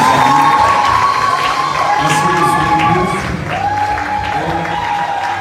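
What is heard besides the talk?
crowd applauding and cheering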